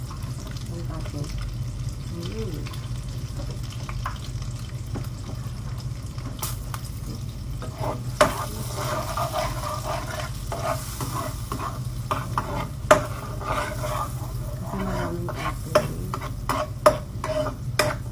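Butter and oil sizzle steadily in a pan under constant stirring, with scrapes and small clatters of the utensil rising through a continuous frying hiss, while someone talks faintly nearby.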